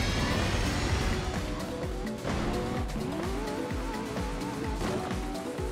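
Car boost in the Cruis'n Blast arcade racing game, a loud, steady engine roar with repeated whooshing sweeps and tire noise that runs throughout.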